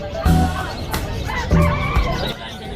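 Chickens cluck and squawk nearby at a busy bird market, with a couple of louder bursts over steady crowd and traffic noise.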